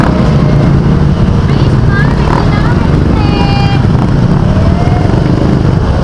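Motorcycle engine running amid steady traffic at the public market in Silang, Cavite, a continuous dense rumble mixed with other vehicles and crowd noise, with voices murmuring in the background.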